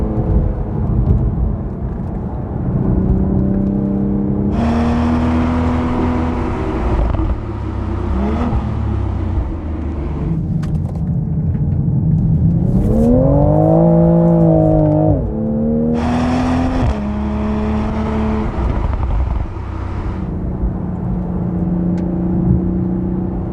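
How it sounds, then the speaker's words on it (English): A Toyota Supra engine pulls at full throttle along a racing line, a loud, steady drone rising and falling through gear changes with a strong surge in the middle, no talking over it. "I'll follow the sort of racing line. That's full throttle, and it just grips up and propels you around."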